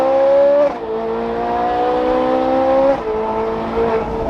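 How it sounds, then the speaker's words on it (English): Ferrari 458 Spider fitted with a full IP exhaust system, its engine revving loud and close with sharp rising pitch sweeps and two quick drops between gear changes, a strong harmonic wail with no talking. "This car has a full IP exhaust system, which sounds pretty damn good if you ask me."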